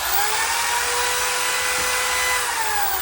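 Hammer drill spinning at 2,000 RPM with a Jiffy Mixer ES blade stirring at full speed, a loud, steady high whine and churning roar that stays constant throughout, close and alone.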